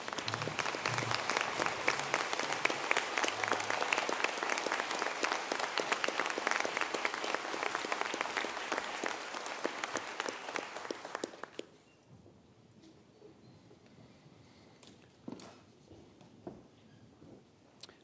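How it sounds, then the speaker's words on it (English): A standing audience at an ATU Sligo graduation conferring ceremony applauds loudly and densely for about eleven seconds, then the clapping drops away, leaving a quiet hall with scattered shuffles and knocks. "If I could ask you to please stand and give a round of applause for those that have just called."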